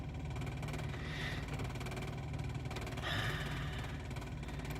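A Nissan Frontier pickup idling low after an upstream oxygen sensor replacement: a steady, even engine drone heard close, with no talk over it.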